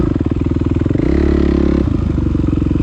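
Kawasaki KXF450 motocross bike with freshly changed oil idles with a rapid thumping beat, revs up briefly into a higher steady tone and drops back to a loud close idle.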